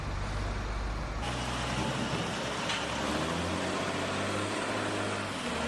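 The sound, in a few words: front loaders scooping and moving clay at a ceramics plant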